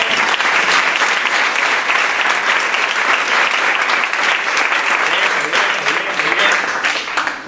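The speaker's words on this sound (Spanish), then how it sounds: "un aplauso para ellos." An audience at a national coaching and leadership congress applauds in a loud, sustained wave of clapping that fills the hall from start to finish.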